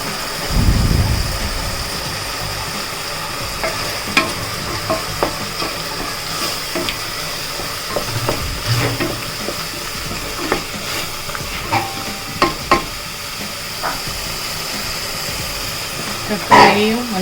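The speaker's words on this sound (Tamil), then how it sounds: "தக்காளியும் மஞ்சள் பொடி போட்டு வதக்கி" Tomatoes sautéing with turmeric powder in a pan for a brinjal chutney, giving a low steady sizzle with scattered clicks and scrapes of stirring, close and moderately loud, with a low engine-like hum running underneath.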